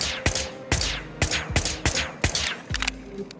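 Gunfire in the video game Whispers of a Machine: a run of about six loud, sharp shots at roughly half-second intervals, each with a ringing tail, heard close and without talk.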